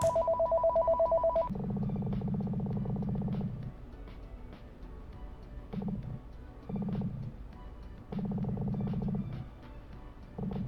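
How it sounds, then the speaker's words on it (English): In the video game Ghost Ripper, a phone rings with a short electronic trill followed by a low buzzing ring tone that pulses in repeated bursts, fairly clear and steady. "and then the phone rings."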